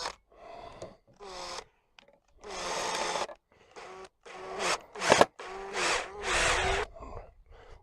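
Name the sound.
cordless drill-driver driving a screw into wood for a polytunnel door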